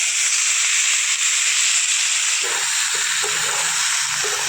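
Malabar spinach stems stir-fry in spices over high heat in a Bengali kitchen, a loud continuous sizzle and hiss that swells slightly as the pan is worked, with no talking.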